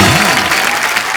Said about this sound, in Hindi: हमारे सारे चैंपियंस के लिए जोरदार तालियां